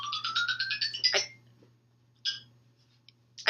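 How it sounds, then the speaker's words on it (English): A phone ringtone plays close by with a quick rising run of bright electronic notes, then a short chirp and a clipped start of another phrase, heard alone without talking. "Oh, your phone's ringing."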